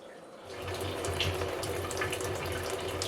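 Water running in to fill fish hatchery jars at a pickerel hatchery: a steady splashing, tap-like flow that swells after the first half second and then holds constant, close by.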